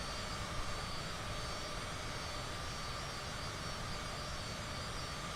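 Airliner engine roar from a flight simulator game, a steady, loud, broadband jet rumble as the aircraft comes in on approach toward a runway, continuous and unbroken with no voices.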